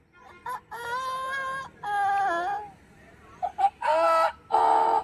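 A person imitates a rooster crowing several times, drawn-out harmonic calls separated by short pauses, loud and close.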